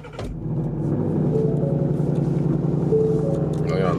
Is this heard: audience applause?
no